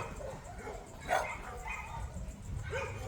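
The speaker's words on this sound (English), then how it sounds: "there is a lot of noise, and the dogs do react to people coming through" Dogs at an animal shelter bark and yip intermittently, a few distant, echoing barks over a low, noisy background, with no talking.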